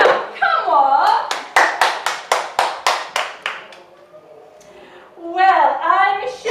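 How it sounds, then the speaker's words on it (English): A small community group at a first meeting claps briefly, about a dozen quick, close claps in a short burst, framed by someone talking before and after. "give ourselves a clap"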